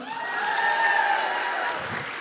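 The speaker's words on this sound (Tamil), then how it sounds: "நட்புங்கிற மட்டும் கைத்தட்டல் கொடுங்க பார்க்கலாம்" Audience applause at a Deepavali and Eid festival comedy show, a dense steady wash of clapping from many hands that swells and then eases slightly.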